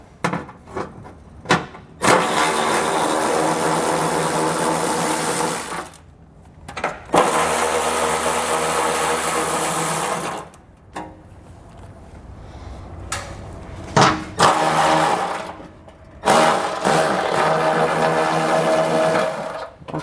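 A socket wrench works 10mm bolts out of the heat shield on a 2018 Subaru Outback Wagon, giving several long bursts of close, loud ratcheting and scraping separated by short pauses.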